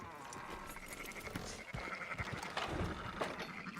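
Sheep bleating in the Red Dead Redemption 2 western video game, several overlapping wavering calls over a busy background of movement and bustle, at moderate distance.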